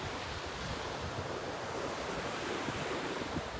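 Ocean waves wash onto a beach in a steady broadband rush, mixed with some wind noise against the microphone, at an even, constant level with no distinct breaks.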